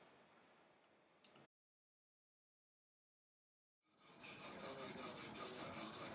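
A knife is drawn across a 1200 grit diamond sharpening stone, giving a close, gritty rasping. A short burst of strokes is followed by silence, then a louder, sustained run of rhythmic scraping.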